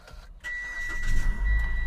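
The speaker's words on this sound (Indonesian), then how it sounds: "Ayo kita coba start stop engine-nya." A 2015 Mitsubishi Outlander Sport starts with its push-button start-stop, a brief crank followed by the engine settling into a steady idle hum, with a thin high whine running above it, close and moderately loud.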